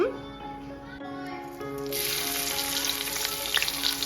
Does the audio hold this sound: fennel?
yes